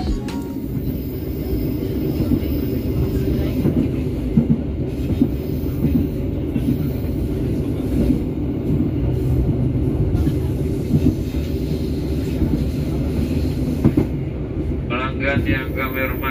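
The Kahuripan passenger train in Indonesia rumbles steadily along the rails for the whole stretch, a constant low roar with faint rhythmic clatter and some indistinct voices in the carriage.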